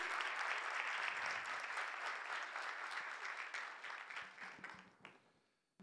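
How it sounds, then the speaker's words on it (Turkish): A live audience at a pastry show claps steadily for several seconds as the organizing company's board chairman is welcomed, then the applause thins out and fades to near silence. "güç alkışlarınıza Halis Can Beyefendi'yi davet ediyorum"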